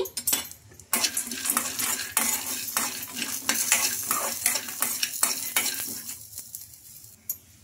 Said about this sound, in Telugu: ఇంకా చూడండి మనకు పల్లీలు కూడా బాగా ఫ్రై అయిపోయినాయి.